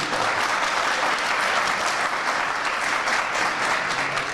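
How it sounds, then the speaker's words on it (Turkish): Strong, sustained applause rises from an audience at an AK Party district iftar gathering in Çameli, many hands clapping steadily with no one speaking over it. "şöyle kuvvetli bir alkışlasak Kadın Kolları Başkanımızı"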